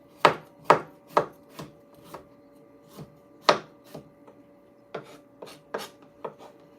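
Garlic and ginger chopped with a knife on a board, a steady run of about a dozen crisp, close chops with short pauses between strokes.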